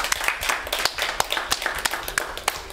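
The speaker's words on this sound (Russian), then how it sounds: "давайте похлопаем друг другу" Quiz players at a trivia league game applauding each other: a room of people clapping unevenly, loud and close, with sharp individual claps over the full stretch.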